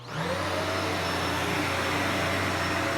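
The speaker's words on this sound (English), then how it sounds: "Let's see if this thing powers the vacuum." A vacuum cleaner powered by a Goal Zero Yeti Lithium 1400 power station starts up and runs, its motor spinning up quickly into a loud, steady whine and whooshing airflow that holds alone.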